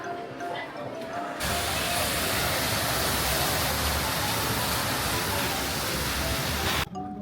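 Sea beside a lunch spot in the Dominican Republic, a loud steady roaring wash of surf that swells in abruptly and holds for several seconds, with faint voices at the start and end.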